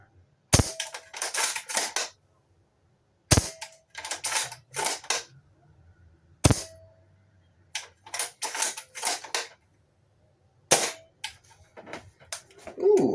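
Airsoft gas blowback rifle firing sharp single shots and short bursts, each a loud crack with mechanical clatter, spaced by pauses across the clip.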